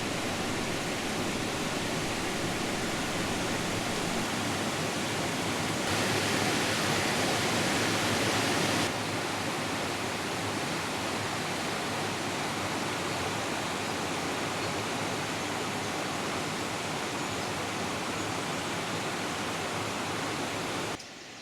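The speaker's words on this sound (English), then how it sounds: "Within the gorge you can hear but not see the river Blavet as it flows beneath a massive tumble" The river Blavet rushes unseen beneath a massive tumble of rocks in a gorge, a constant broadband roar of water without voices, with a brief louder stretch partway through.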